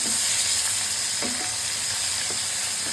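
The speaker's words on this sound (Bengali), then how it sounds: "তেলটা ভালোই গরম হয়েছে। যাই হোক, আমার মাছটা ভালোভাবে ভাজা হয়েছে।" Fish fries in very hot oil with a constant close hiss and crackle, broken by a couple of brief scraping knocks from a utensil in the pan, no speech.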